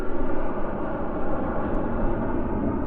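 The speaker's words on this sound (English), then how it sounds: "it's a lot of planes going out today." Airplanes flying overhead produce a continuous low, broad roar that holds steady at moderate loudness throughout, heard outdoors with no speech.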